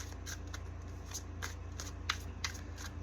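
Tarot cards are shuffled in a quick run of soft, papery riffles and flicks, close and fairly quiet, with no talking.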